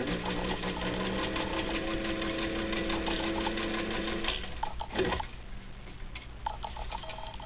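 Steady, fast mechanical whirring and clatter of a 1940 Singer 15-91 sewing machine in cherry red stitching fabric, running continuously up close before easing slightly toward the end.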